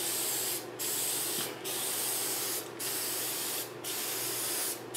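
Spray paint applied to a washer and dryer, steady close aerosol hiss in long bursts separated by brief pauses, about five passes with no talk.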